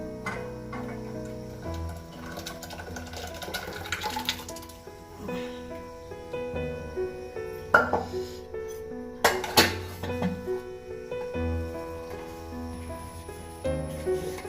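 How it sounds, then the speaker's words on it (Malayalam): Boiling milk is stirred in a pot for Kerala payasam, with a utensil giving intermittent close clinks and scrapes against the metal. Sustained background tones run throughout. "ഇടയ്ക്ക് ഇളക്കി കൊടുക്കും കേട്ടോ, അടി പിടിക്കാണ്ടിരിക്കാൻ"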